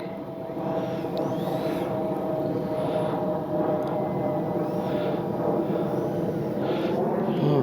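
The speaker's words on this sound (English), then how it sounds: "80 millimeter, the all new 80 millimeter F-22 by FREEWING." A Freewing 80mm F-22 RC jet with a KM model afterburner gives off a steady, loud ducted-fan roar that holds for several seconds, with a faint hiss over it and no one talking.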